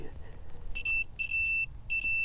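A digital multimeter beeping during continuity testing of fuses in an impounded car, three short high electronic tones in quick succession, fairly quiet over faint background noise.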